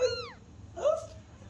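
A cow-patterned cat meows twice up close, a falling, drawn-out cry followed moments later by a shorter, softer one, with a low hum underneath and no talking.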